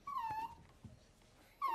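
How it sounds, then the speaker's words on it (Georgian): A cartoon dog gives two high, drawn-out whimpers, one at the start and one at the end, with a faint quiet stretch between them. "ეს ჩემი ძაღლია."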